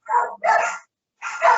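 A dog barks nearby in three sharp, loud bursts, two in quick succession and then a third after a short pause, with nothing else audible.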